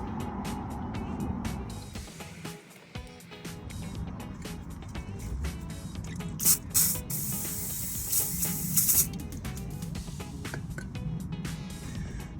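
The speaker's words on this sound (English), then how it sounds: "I'm just going to spray this with some WD-40 to try and give it a bit of lubrication" Aerosol can of WD-40 lubricant sprayed onto a seized brake calliper bracket on a Bentley, a hissing spray burst close by over steady workshop background noise.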